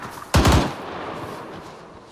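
A short burst of automatic rifle fire in the military shooter Arma 3, a few fast shots cracking together, then a trailing echo fading out.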